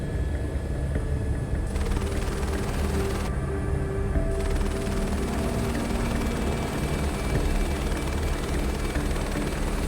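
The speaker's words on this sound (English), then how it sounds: "I like these helicopters." A UH-60 helicopter's rotor and engine roar steadily at close range, a continuous loud thrum with whining tones riding on top.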